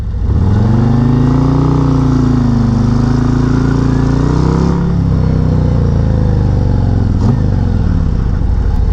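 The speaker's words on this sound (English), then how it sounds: "I'm just going to take off pretty aggressively on this hill and also drag the clutch kind of while I'm doing that" A Harley-Davidson motorcycle pulls away hard up a hill with the clutch dragged, its engine loud and close, roaring in a sustained rising-then-levelling drone before the pitch drops and recovers near the end.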